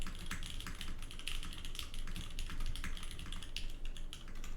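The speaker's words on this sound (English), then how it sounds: "So you really get to hear the cherry switch." Fast, continuous typing on a mechanical keyboard with Cherry switches, a close, crisp clatter of individual keystrokes with a few louder clacks, no voices.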